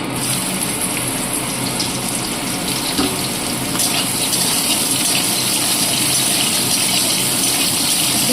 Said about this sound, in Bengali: বড়ি ভাজার পরে যে তেলটা রয়ে গেছে, এর মধ্যে দিয়ে দিচ্ছি আমি উচ্ছে।